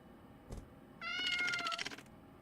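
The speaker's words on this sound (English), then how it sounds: "kitty cat." A cat in a ghost-train video game gives a short tick, then one drawn-out, close, fairly quiet meow of about a second, alone without talk.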